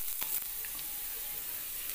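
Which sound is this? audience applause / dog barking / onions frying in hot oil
onions frying in hot oil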